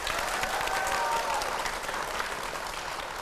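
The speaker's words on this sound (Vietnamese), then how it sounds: "Vỗ tay đi quý vị." A studio audience on a Vietnamese television dating show claps in a steady, full round of applause that lasts the whole stretch without letting up.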